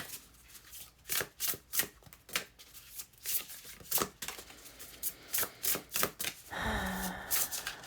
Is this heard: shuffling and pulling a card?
yes